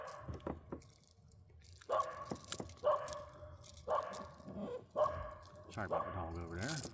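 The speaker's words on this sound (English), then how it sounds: "Sorry about the dog over there." A dog barks repeatedly near a kayak on cold water, a series of sharp, moderately distant barks spaced about a second apart, with water drips and a voice talking intermittently.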